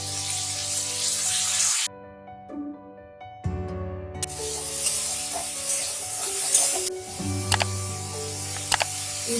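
Green peas hitting hot oil in a wok alongside carrots, a bright steady sizzle broken by stirring and clattering, with a brief quieter gap before the frying noise surges back.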